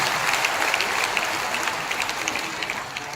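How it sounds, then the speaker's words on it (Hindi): Dense, steady applause from a crowd, loud and continuous, clapping fading slightly toward the end. "स्वागत करिए तालियों से"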